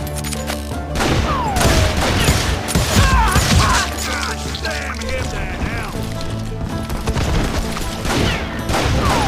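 Call of Juarez: Gunslinger gunfire rattles in dense, overlapping volleys with scattered crashes and booms, loud and continuous throughout.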